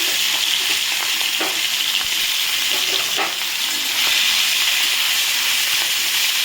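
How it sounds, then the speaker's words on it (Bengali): Shrimp fry in hot oil with a loud, dense, continuous sizzle and occasional light pops and stirring taps, close and uninterrupted. "আমি চিংড়ি মাছটাকে ভেজে নিচ্ছি"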